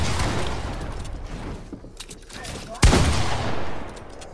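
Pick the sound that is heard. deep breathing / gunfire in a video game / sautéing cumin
gunfire in a video game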